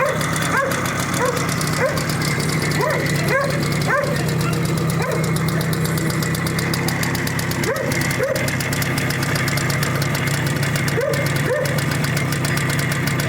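Cold-started engine on a farm machine running steadily with a knocking, rough idle over the full length, while a dog barks repeatedly nearby in short bursts.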